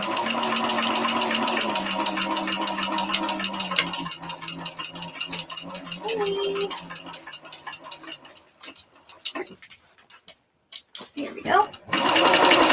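Sewing machine stitching a Scottie dog bag runs with a steady whirring hum for several seconds and then winds down, while someone talks over it.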